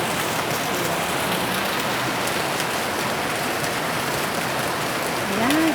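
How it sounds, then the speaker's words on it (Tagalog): Steady rain falls on surfaces outdoors near potted garden plants, a dense, continuous hiss and patter of drops that stays even and fairly loud throughout with no talking. "Ayan, enjoy lang tayo sa ulan"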